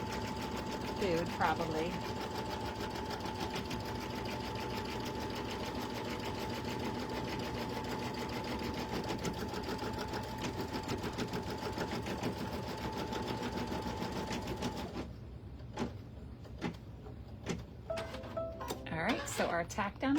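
An embroidery machine stitching a tack-down, a steady rapid mechanical whir running for about fifteen seconds before stopping, with a person talking briefly and scattered clicks and handling noises afterward.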